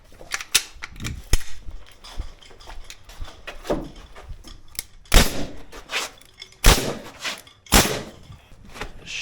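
A pneumatic nail gun fires nails during a garage-to-ADU conversion, sharp loud cracks spaced irregularly, some in quick pairs, with clattering handling and tool noise between shots and no talking.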